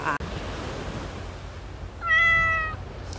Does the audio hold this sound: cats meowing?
yes